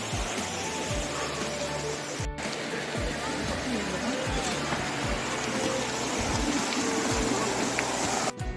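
Glacier meltwater rushes near Hemkunt Sahib in the high Himalayas as a steady, broad hiss of flowing water, with a faint low thumping underneath.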